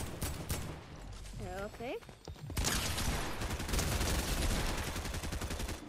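Rapid bursts of gunfire in the Fortnite Reload battle royale game, loud and dense through most of the stretch, with a brief spoken word early on.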